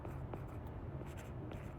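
Handwriting on paper: faint, close scratchy strokes in short bursts over a low steady background hum.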